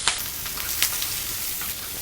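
Green chillies, curry leaves and onion sizzle in hot oil in a pan, a dense, steady crackling fry with a couple of brief louder pops, close and continuous without speech.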